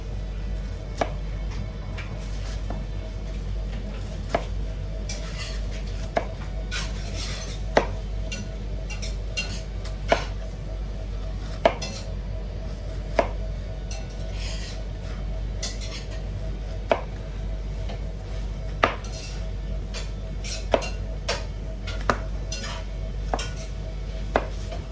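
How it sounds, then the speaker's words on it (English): A knife slicing an onion thinly on a cutting board while making homemade salsa on a farm, with steady, fairly quiet chopping taps in an irregular rhythm over low background hum. "you want to just cut down and make it pretty thin, little slices down so everything stays together"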